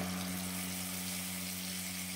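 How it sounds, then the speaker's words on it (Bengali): Spice paste hitting hot oil with bay leaf, dried chilli, cardamom and five-spice for a vegetarian shukto, giving a steady, close sizzle with a low hum underneath and no talk. "বেটে রাখা পেস্টটা দিয়ে দিলাম।"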